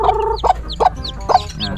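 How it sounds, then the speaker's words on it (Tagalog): Chickens clucking inside their coop in short repeated bursts, several calls close together over a low steady background hum. "nasa loob na ng kulungan yung mga manok natin"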